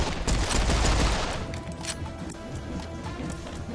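Wild gunfire blasts away in Serious Sam 4, a loud rattling burst of rapid shots that peaks early and then trails off into scattered, quieter pops and game sound.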